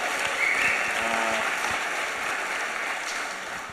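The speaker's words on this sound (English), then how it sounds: "let's give a round of applause" At a London Web3 and crypto conference, the crowd greets a guest with a broad, continuous round of applause, thick and even from start to finish and fading slightly at the end.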